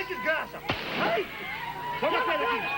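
Police gunfire caught in news footage of a clash at a guard post, a single sharp report cracking out between stretches of a reporter's narration.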